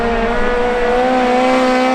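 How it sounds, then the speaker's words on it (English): A 1986 Toyota MR2 racing offroad, its engine droning loud and steady at high revs, close up, for a couple of seconds with no talking. "This is my 1986 MR2."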